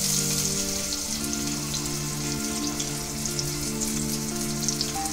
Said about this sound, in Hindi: उसमें थोड़ा सा तेल ऐड कर दिया है। अभी इसमें हम प्याज डालेंगे।